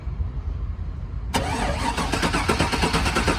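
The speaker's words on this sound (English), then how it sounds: "Let's see if it'll crank with the key." A GMC 2500 truck with a 6.0 engine cranks with the key, a sudden loud mechanical churn that kicks in after a quiet, rumbling start and keeps rhythmically turning over, close up.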